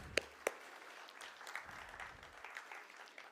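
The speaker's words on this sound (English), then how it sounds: "Friends, a big round of applause for them." An audience applauds at a stock exchange listing ceremony for Ellenbarrie Industrial Gases, a few sharp claps at the start and then a steady, moderate patter of clapping in a hall.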